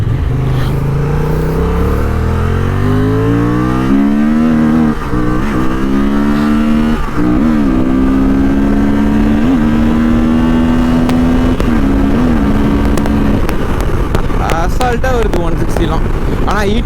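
A Honda Transalp motorcycle engine pulls hard through successive gear changes, each climb in revs breaking off briefly before the next rises again, loud and close to the microphone, with a voice speaking over the engine toward the end.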